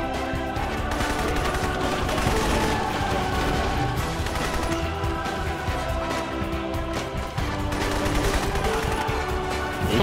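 Dense, sustained gunfire from a shooter video game, with rapid automatic bursts and overlapping shots forming a loud, continuous barrage throughout.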